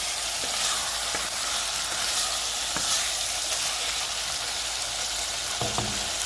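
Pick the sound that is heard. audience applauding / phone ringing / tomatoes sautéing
tomatoes sautéing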